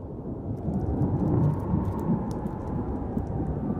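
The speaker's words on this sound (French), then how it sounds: "L'orage approche." Low, rolling thunder from an approaching storm over a mountain cliff, a steady distant rumble that swells and fades with faint crackle, no voices.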